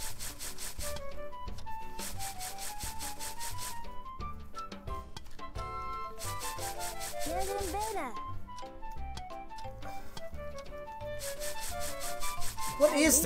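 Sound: grating cheese in Cooking Mama video game

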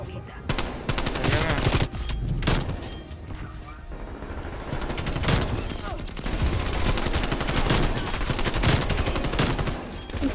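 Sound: gunfire in a video game

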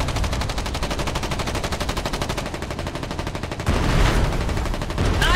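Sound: gunfire in the video game Foxhole

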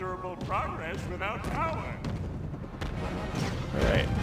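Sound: gunfire and bullets in SpongeBob video game

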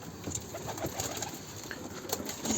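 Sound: pigeons cooing

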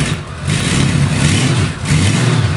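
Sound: Valkyrie trike engine running

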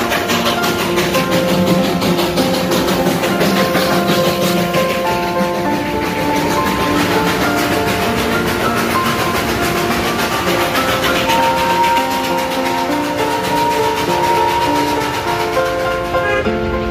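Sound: Darjeeling heritage toy train running

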